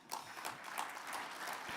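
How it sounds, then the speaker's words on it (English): Broad, steady applause fills a banquet hall at a U.S. Conference of Mayors winter meeting opening luncheon, sustained and fairly soft throughout with no one speaking over it. "give yourselves a round of applause"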